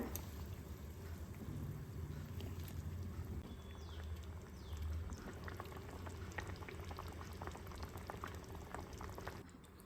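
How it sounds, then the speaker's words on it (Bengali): Curry gravy for Tengra fish curry boils in a pan, a soft, steady bubbling and simmering throughout, quiet and close. "ঝোল ফুটে গেছে, এখন আমরা ট্যাংরা মাছগুলোকে অ্যাড করব।"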